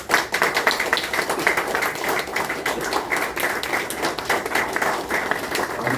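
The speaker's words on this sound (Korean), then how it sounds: "큰 박수로 맞아주시기 바랍니다" Sustained audience applause at a Korean national security forum as a retired general is welcomed to the stage, dense steady clapping filling the room for several seconds without speech.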